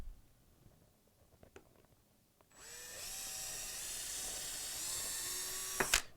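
Someone handles an anvil stand with a few light taps, then a power drill whines loudly and steadily with rising pitch for about three seconds while driving a screw, ending in a sharp clack.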